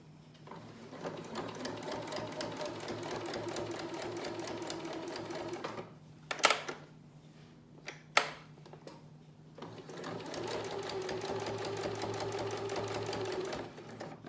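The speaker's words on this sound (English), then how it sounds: "So I'm going to run another line of stitches along here." A sewing machine stitches a line along a fabric face mask, whirring steadily and close, pausing for a few seconds with a couple of clicks from handling, then running again.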